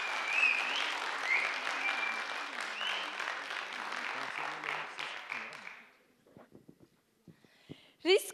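A hall audience at a Turkish school speaking contest in Sarayönü, Halkapınar claps steadily and densely for about six seconds, then the applause dies out, leaving a few faint scattered sounds.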